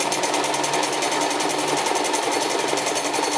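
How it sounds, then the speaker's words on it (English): A sewing machine stitching binding on a small coin purse, a loud, fast, steady mechanical rattle close up that runs continuously with no pause, backstitching at the seam ends. "I am doing a back stitch at the ends of my sewing to keep things from unraveling"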